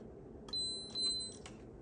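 Two short, high electronic beeps in quick succession from a capacitor tester, faint against a quiet background.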